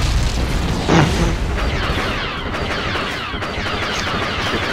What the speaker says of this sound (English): Oh, I'm throwing grenades at our friends.